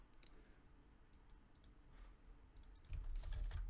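Fast typing on a computer keyboard: bursts of light, close key clicks in quick runs with short pauses, quiet, with a low background hum and no talk.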